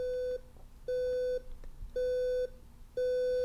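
A Bose Wave SoundTouch 4 alarm beeps in a steady repeating pattern, four long even tones about a second apart, each rising in volume, with no talking.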